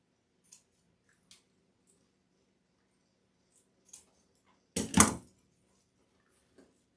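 Scissors snip through flower stems for a farmhouse floral arrangement: a few faint, sparse clicks, then one louder, close crunching cut, and a last soft snip, all alone in a quiet room.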